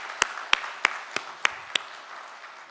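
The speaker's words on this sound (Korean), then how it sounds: "우리 박수로 환영하겠습니다" A few sharp, evenly spaced claps ring out in a church during a Sunday morning service as a newly registered member is welcomed, about six distinct strikes over a soft room hum before stopping.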